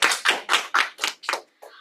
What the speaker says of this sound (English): Please give a round of applause for Toastmaster Rachel.